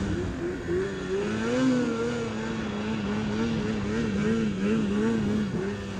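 A 2020 Polaris Khaos snowmobile engine revs steadily during a ride over hard-packed snow, a droning, wavering tone rising and falling in pitch for the whole stretch, close and fairly loud with no talking.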